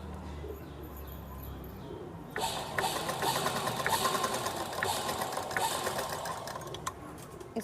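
Sewing machine stitching together the shoulder seams of a top made from leftover fabric, starting faintly and then running louder and steadier with a fast, even mechanical whir and small ticks.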